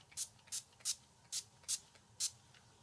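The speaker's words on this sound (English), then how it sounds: "How about some setting spray?" Six quick, crisp bursts of makeup setting spray hiss in a steady rhythm, each a short close puff of mist against a quiet background.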